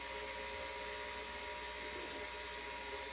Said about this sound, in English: we're going to turn the KitchenAid on